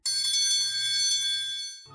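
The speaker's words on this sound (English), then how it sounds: "Where is that bell ringing coming from?" A bright metallic bell rings steadily and loudly with a ringing tone that holds throughout, changing in pitch just before the end, with no talking.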